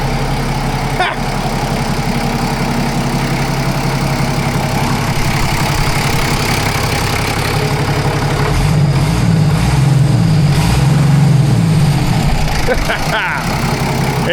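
A barn-find CASE loader idles steadily through its quiet muffler, a continuous low rumble with a slight rise partway through and a few brief knocks.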